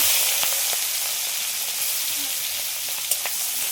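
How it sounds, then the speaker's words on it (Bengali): Cleaned prawns fry lightly in hot oil, giving a steady, even sizzle with a few soft pops and scrapes. "চিংড়ি মাছ আগে দিয়ে কেটে বেছে পরিষ্কার করে ধুয়ে রেখেছি। এবারে এইগুলো একটু হালকা করে ভেজে নেব।"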